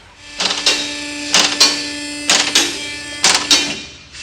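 A vehicle lift raising a Jeep Grand Cherokee, with a steady motor hum broken by four evenly spaced pairs of loud mechanical clunks, close and alone without talk.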